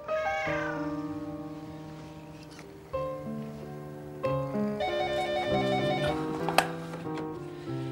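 A cat meows a few times over a musical score of sustained tones in a French TV drama scene, the calls fairly faint beneath the music, with no speech.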